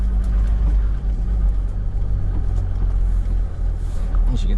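A Toyota 80 Series 4WD crawls in first gear high range along a tree-strewn forest track in South West WA, its engine a loud, steady, low rumble heard from inside with a voice talking over it.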